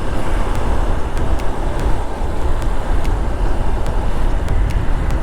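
A Honda NX200 motorcycle rides along a highway, its engine and wind roar forming a loud, continuous rumble with steady road noise and faint periodic ticks throughout, no talking.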